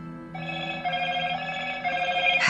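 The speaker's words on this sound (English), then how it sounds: "I didn't realize that phone would ring quite that loudly." A telephone rings loudly and steadily for about two seconds, its bell tone sustained and close, with no talk over it.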